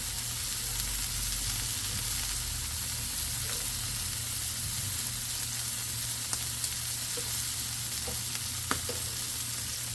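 Onions sizzle steadily on a hot griddle while smash burger tacos cook, a loud, continuous close-up frying hiss with a few faint clicks and no talking.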